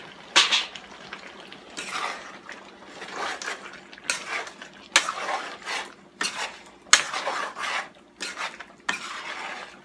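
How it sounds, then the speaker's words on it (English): Carrots tipped into a pot of curry chicken and pork, with repeated clattering, scraping bursts of metal on cookware that come close together and fairly loud, and no talking. "I'm gonna go ahead on and add my carrots to that."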